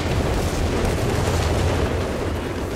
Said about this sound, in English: Kanona going for base bombardment again